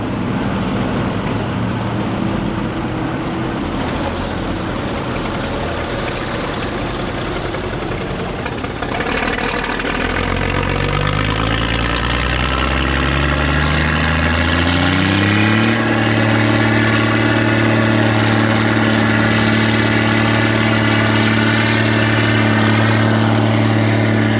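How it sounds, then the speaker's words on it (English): A loud diesel engine of an old Mack truck runs steadily, its rough idle rising partway through into a higher, sustained revving drone with strong low harmonics. "It's a pretty cool old Mack truck there."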